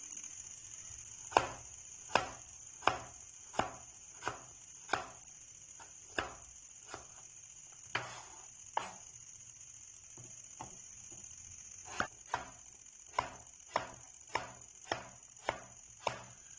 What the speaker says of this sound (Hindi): इस साइज में और इस शेप में हमने काटने हैं ये आलू। बाकी भी हम इसी तरह काट लेंगे।